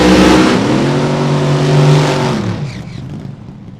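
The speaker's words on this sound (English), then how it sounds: "You get to see the differences between the sound of the injected nitro car and the blown alcohol car." Drag racing engine, an injected nitro or blown alcohol car, roars loud and close at full throttle, a heavy sustained blare that rises, holds, then fades away after a couple of seconds.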